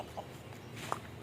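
A rooster gives a couple of short, soft clucks nearby, with faint outdoor background between the calls.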